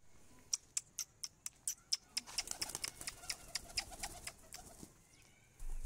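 Several pigeons give a run of short, evenly spaced calls and wing sounds at close range, with no talking. A louder burst comes right at the end.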